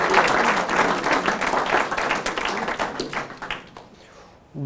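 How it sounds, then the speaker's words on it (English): A room of attendees at a debt acceleration talk gives Ben a round of applause, brisk close clapping that is loud at first, thins and fades near the end before a brief voice begins. "Everyone give Ben a round of applause"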